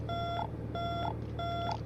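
Landing gear warning alarm in a light aircraft's cockpit during approach, three evenly spaced repeating electronic beep tones over a constant low engine drone, no talking.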